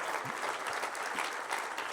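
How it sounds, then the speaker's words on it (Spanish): A church congregation applauding during a Spanish-language sermon, dense even clapping filling the whole moment at moderate loudness, with no voices over it. "Den un aplauso al Señor."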